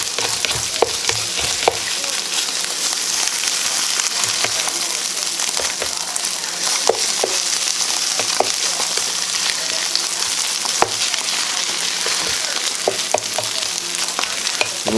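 Breakfast hash and egg fry steadily in a pan, a constant close crackling sizzle with scraping spatula strokes as the mixture is pressed flat, and a voice talks now and then.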